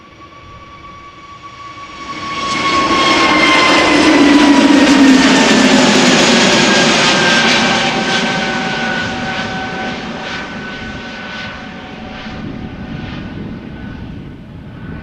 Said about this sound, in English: Next up, A320neo EasyJet outbound to Edinburgh.